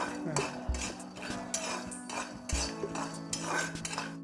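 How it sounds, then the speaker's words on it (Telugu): Peanuts dry-roasting in a pan for bagara baingan, heard as repeated close metal scraping and clinking of a spoon stirring against the pan, with a faint low sizzle underneath and no talk. "నేను పుల్లి పల్లీలని ఈ విధంగా కొద్దిగా ఒక త్రీ ఫోర్ మినిట్స్ కొద్దిగా వేయించుకోవాలి"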